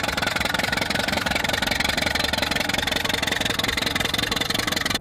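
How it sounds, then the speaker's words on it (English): A Farmall Regular vintage tractor engine running at a classic tractor event, a steady rhythmic idling chug with dense mechanical vibration, continuous and close for the whole stretch. "When you hear one fire up at a classic tractor event nowadays, the rhythmic hum is more than just an engine sound."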